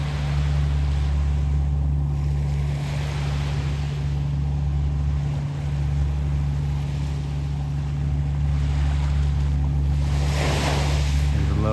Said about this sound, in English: This dredge boat just pulled away from the jetty.